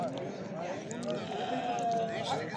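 Sheep and goats bleating at the Özgörüsh village livestock market, with several wavering calls over a busy crowd murmur and people talking nearby.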